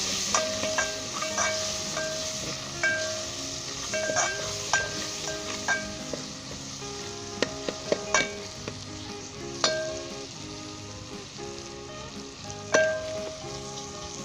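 Tomatoes, green chili and masala sizzle and fry in a pot, a steady close hiss broken by scattered clinks and scrapes of a spoon stirring, with no talking.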